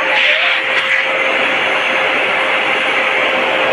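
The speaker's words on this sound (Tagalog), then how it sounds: "Ito yung blower niya mga idol, no? Blower at saka vacuum." An Ingco 1200-watt, 12-liter wet and dry vacuum cleaner runs in blower mode, giving a loud, steady, close whirring roar with no talk over it.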